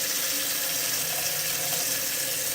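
Warm water pours steadily into plastic containers while preparing mead, a continuous close rushing splash with no breaks and no voices.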